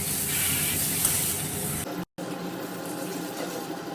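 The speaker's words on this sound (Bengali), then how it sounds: "এবারে মশলাটা খুব ভালো মতো কষিয়ে নেব।" Spice paste for katla fish curry frying and being stirred in hot oil: a steady, close sizzle and hiss with a brief cut partway through, carrying on unchanged afterward.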